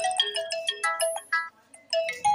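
A mobile phone ringtone for an incoming call plays loud and close: a bright, repeating electronic melody of short tonal notes in quick phrases, with a brief pause before the tune resumes.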